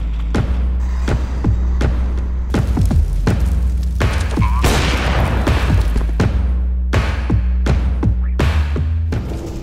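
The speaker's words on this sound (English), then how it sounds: "Machine gun will drop him." Repeated loud machine gun bursts and booming shots in a PUBG Mobile esports match, sharp impacts spaced through the stretch over a steady low hum, no talk.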